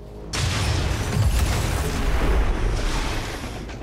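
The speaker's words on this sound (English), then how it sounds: "So easily that should be the same explosion." A remote-start explosion in XCOM 2 sets off a sudden loud blast followed by a heavy, rumbling roar with low booming rolls that keeps going to the end.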